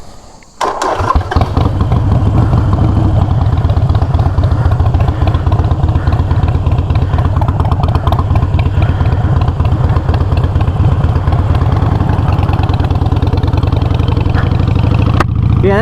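A Harley-Davidson Iron 883 motorcycle engine cranks and fires up, then settles into a loud, close, lumpy idle with an even rhythmic thump that runs steadily for over ten seconds before cutting off.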